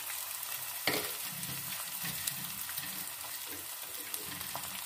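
Carrots, bell pepper and cabbage sauté in a pan with a gentle continuous sizzle, punctuated by spoon scrapes and stirring knocks, heard close and fairly quiet.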